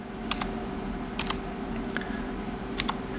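Program name typed on a computer keyboard, a few separate short bursts of keystroke clicks spaced over a steady background hum, fairly close.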